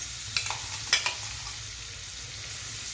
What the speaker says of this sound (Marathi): हिंग चांगला तळला की त्यामध्ये आपल्याला हे पेस्ट घालायची